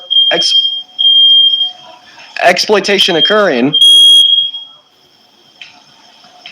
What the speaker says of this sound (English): my fire alarms were going off for a second